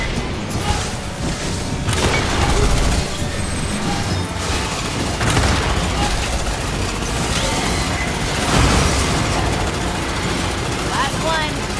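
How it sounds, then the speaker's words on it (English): A grenade detonates in the sci-fi shooter Aliens: Fireteam Elite 2, with deep booms buried in a constant, loud wash of combat noise and gunfire. Voices are heard under the din. "Boom, grenade out."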